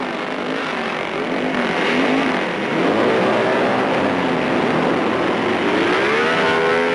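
A Honda RC166 racing motorcycle engine screams at high revs, its pitch rising and falling through gear changes, loud and continuous with no voices.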